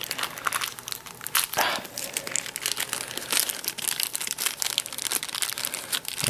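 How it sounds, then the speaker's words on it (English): Motorola Droid Razr M phone accessories being pulled from their packaging, close crinkling and rustling of plastic and paper with tearing bursts, continuous and near. "So we'll go ahead and just take this out of the packaging here."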